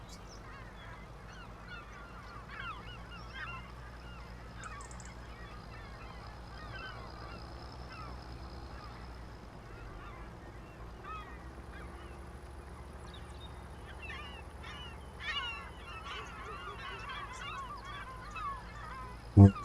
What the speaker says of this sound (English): More freaking seagulls going after